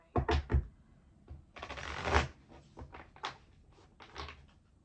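Oracle cards are riffled and shuffled in several short bursts of papery flutter and taps, close by, separated by brief pauses.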